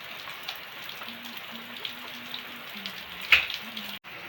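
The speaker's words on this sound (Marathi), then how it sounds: "इकडे बघा पाऊस बघा किती" Heavy rain pours down on a Konkan village morning, a steady dense hiss of drops drumming on surfaces, close and continuous throughout with no talk.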